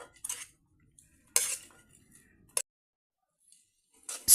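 Pancit noodles are mixed with soy sauce in a pan, heard as a few sharp, separate clinks and scrapes of utensils against metal with near silence between them, close and clear.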